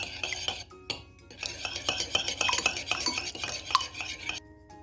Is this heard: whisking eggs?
yes